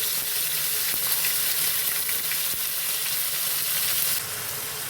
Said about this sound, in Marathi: तेल तापलंय आपलं, थोडं जिरं घालून घेते.